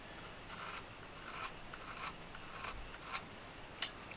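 A tool scratches an accordion reed from the Royal Standard 32 bass treble side to lower its pitch, producing faint close-up rasping strokes that repeat about every half second, six or seven in a row.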